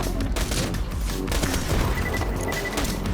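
Sustained gunfire and explosions in Borderlands 2, a dense, loud barrage of shots and booms running continuously with no pauses.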